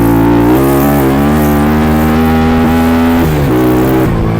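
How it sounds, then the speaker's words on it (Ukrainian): A loud, close motorcycle engine, a Geo-Minsk, roars at full throttle in second gear, its pitch climbing and holding, then dipping and rising again as the throttle shifts. "На второй дав газ в пол."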